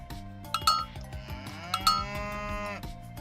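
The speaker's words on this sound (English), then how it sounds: "Find these cattle." Deep cattle moos in Age of Mythology Retold stretching out over clanking cowbells, with a pulsing low rhythm underneath, all close and moderately loud.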